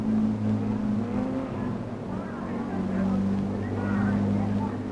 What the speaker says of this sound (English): It's time for the first lap of the longest automobile race in the world.